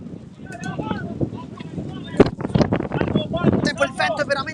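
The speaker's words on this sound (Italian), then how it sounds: "il vento è veramente fortissimo" Strong wind buffets the microphone at an outdoor five-a-side football match, a continuous rumbling gust noise under steady commentary and crowd voices.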